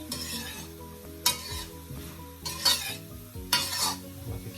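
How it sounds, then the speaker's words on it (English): Jerk shrimp fried rice with onion being stirred in a pan, with a few clear scrapes of a utensil against the metal over a steady low sizzle, close and alone. "So guys, I'll give that a stir again. Stir that around, guys."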